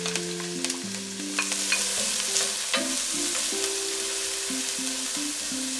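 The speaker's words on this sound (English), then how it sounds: "once the oil's hot, what we're gonna do is add in the onions and the garlic" Onions and garlic frying in hot olive oil in a pan, a steady close sizzle with crackling pops, continuous and fairly quiet.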